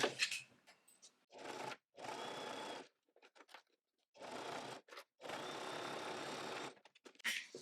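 Sewing machine stitching a fabric pouch, running in several steady bursts of rapid needle chatter separated by brief pauses, close and fairly quiet with no talking.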